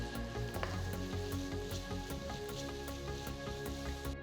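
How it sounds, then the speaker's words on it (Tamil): Two large finely chopped onions sautéing in ghee and butter with whole spices like cinnamon, shahi jeera and cloves, giving a steady, continuous close sizzle with faint crackles and no talking. "அடுத்து 2 பெரிய வெங்காயம் பொடியாக நறுக்கினது சேர்த்து வதக்குங்க."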